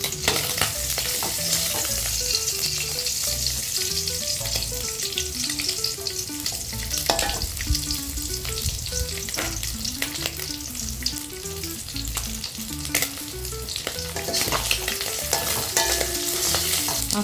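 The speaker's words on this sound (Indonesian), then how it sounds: "Jadi aku ngegorengnya juga gak lama karena takutnya dia keras." Food stir-frying in a pan, with a steady, dense sizzle and scraping stirs running throughout and no voices.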